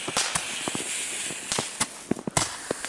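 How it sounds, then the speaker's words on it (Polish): Firecrackers pop off outdoors in sharp, loud bursts, several separate bangs and cracks scattered over a few seconds against steady background hiss, with faint footsteps between them. "To są dopiero fajerwerki. Dobra, odpalam drugiego."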